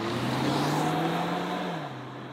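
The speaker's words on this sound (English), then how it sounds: "we've just hit the road in the Kona" 2024 Hyundai Kona hybrid driving on the road, a steady engine and road hum heard from inside the car, holding even before easing off slightly near the end, with no talking.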